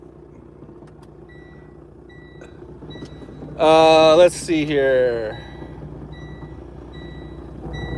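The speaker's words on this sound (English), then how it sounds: "This truck is making some weird noises." A loud, strange, buzzy honking blare from a truck bursts out twice in quick succession over quiet engine rumble, after a brief spoken remark.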